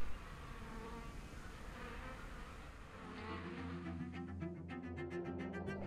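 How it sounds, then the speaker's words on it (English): A dense, steady buzzing of many bees droning together nearby, swelling slightly louder and more tonal toward the end. "bees need to complete the collection before the seawater dilutes the nectar"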